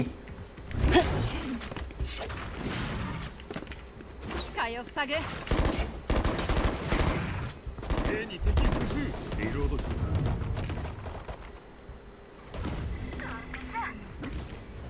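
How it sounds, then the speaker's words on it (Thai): Pistol and other gunfire in the shooter game Valorant, bursts of sharp shots scattered through a busy fight with footsteps and effects, while players talk excitedly over it. "โดนปืนพกยิง"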